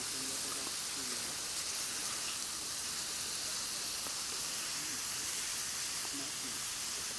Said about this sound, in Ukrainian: Зараз ми обсмажуємо такі гарні шкварочки, щоб були в нас м'ясні.